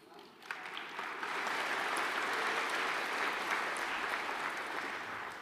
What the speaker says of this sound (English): Don't clap yet, it might be shit.